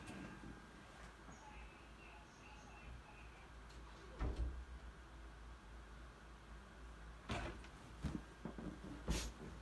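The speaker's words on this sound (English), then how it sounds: "I'm gonna close the door" Door closing indoors in a quiet room, heard as a few dull knocks and a latch click, the loudest near the end, over steady low background hiss.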